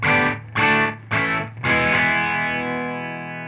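Distorted electric guitar plays quick descending note runs in several bursts, then lets a final chord ring out and slowly fade.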